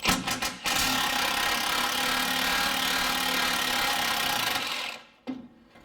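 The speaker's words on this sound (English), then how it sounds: "So I'm loosening one bolt and then removing this one completely." A ratchet loosens transmission pan bolts on a Jeep, a loud, continuous mechanical whirring run that holds for several seconds before winding down and stopping.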